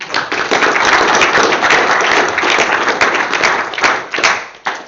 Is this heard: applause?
yes